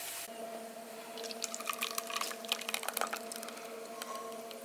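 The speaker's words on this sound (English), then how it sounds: "I'm finishing straining this" Creamy basil garlic sauce being strained, soft wet dripping and squishing close up over a faint steady hum, without talk.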